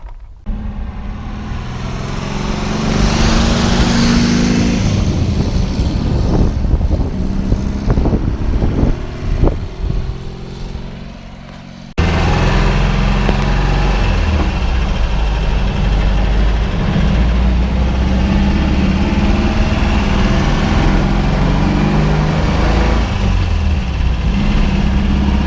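A 1974 Volkswagen Thing's engine runs steadily while the car is driven, giving a continuous low rumbling drone with road and wind noise. A brief dip is followed by a sustained, even hum to the end.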